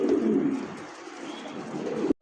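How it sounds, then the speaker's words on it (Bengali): A single red Lahori pigeon coos close by, giving a low, throaty, rolling call that runs for about two seconds before stopping abruptly. "দর্শক এই মুহূর্তে দেখতে পাচ্ছেন রেড কালার সিঙ্গেল একটা কবুতর লাহোরি।"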